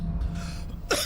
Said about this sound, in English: This cough is being really annoying